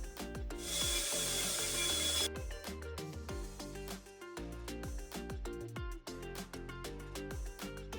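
Ends of PVC pool filtration pipes being chamfered and filed by hand, a steady run of close, rhythmic rasping and scraping strokes with a brief burst of harsher hiss near the start, no talking.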